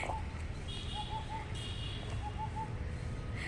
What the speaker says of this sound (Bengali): আর শুনতেই পাচ্ছ কি সুন্দর পাখি ডাকছে।